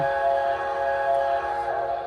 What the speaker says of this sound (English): has the MTH whistle steam, which is pretty cool